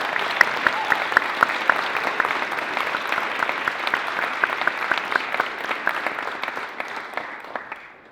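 Steady audience applause at a model parliament opening ceremony, a dense wash of clapping with a few distinct nearby claps standing out, fading toward the end.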